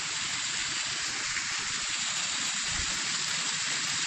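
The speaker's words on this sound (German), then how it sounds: "Das nenne ich doch mal einen Wasserfall." A small waterfall in a forest stream gives a steady, dense hiss of rushing and splashing water, close and unbroken, with no voices.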